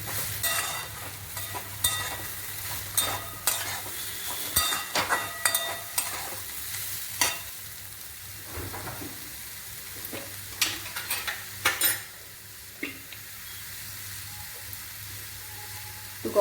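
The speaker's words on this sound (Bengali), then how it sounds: "এবার একটু 2-3 মিনিট ভালো মতো আমি মিলিয়ে নিচ্ছি" Papaya curry with cashews and raisins is stirred in a frying pan, with a steady low sizzle under repeated scraping and clattering strokes of the spoon, close and fairly quiet, with no talking.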